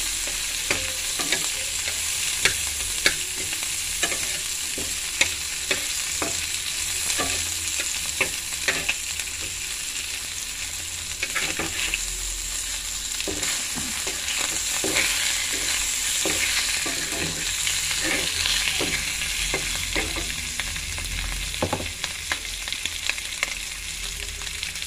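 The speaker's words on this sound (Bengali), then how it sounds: "ফোড়নে পেঁয়াজ দিয়ে দিলাম, পেঁয়াজগুলো ভেজে নেবো হালকা, বেশি ভাজবো না।" Onions frying lightly in tempered spiced oil, a steady bright sizzle that holds for the whole stretch, with frequent clicks and scrapes of a spatula stirring the pan close by.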